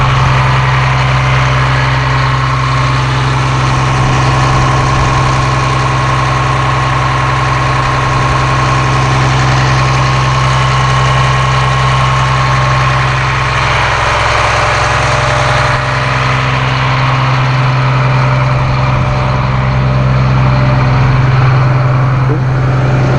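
A Caterpillar C7 7.2-liter turbo diesel idles steadily in a 2006 Blue Bird All American school bus, a loud, even, low rumble with a constant hum, heard close up and alone.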